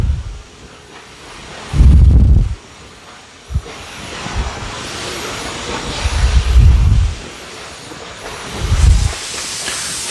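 A Hoover steam mop pushes out steam as a floor gets wet, heard as several loud, breathy hissing bursts with a low rumble, separated by quieter stretches.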